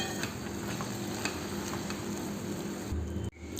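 Coriander leaves are stirred into a simmering tomato gravy in a pan, with a steady close sizzle and bubbling and soft stirring scrapes that run on evenly before a brief knock near the end.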